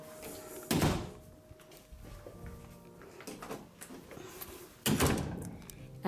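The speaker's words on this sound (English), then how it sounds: "I just shut all the doors." Indoor doors being shut in a home, two distinct thuds a few seconds apart with softer knocks and handling noises in between, close and fairly loud.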